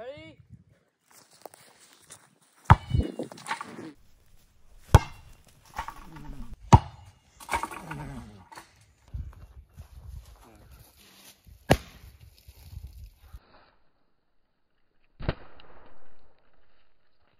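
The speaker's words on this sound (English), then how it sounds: "Today, we're going to be breaking this rock." Hammer smashing a rock outdoors: scattered sharp, loud impacts, about eight hard strikes spread over the clip, with people talking and cheering between them.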